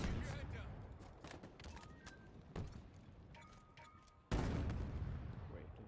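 Battle rifle fire in the shooter Halo Infinite, sharp bursts of shots and booms amid battle noise, with a loud blast near the end, under a player talking.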